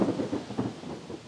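A thunderstorm near Chernobyl: deep rolling thunder and steady heavy rain wash over a windy, rumbling background, loud and continuous with no voices.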